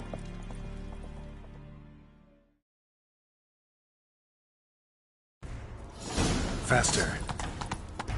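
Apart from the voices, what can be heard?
horse hooves galloping in a video game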